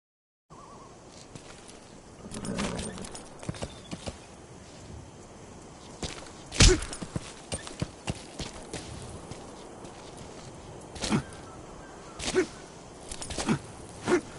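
Horse hooves clip-clop in a video game, a faint, irregular series of soft footfalls with a few sharper, louder hits scattered across the stretch.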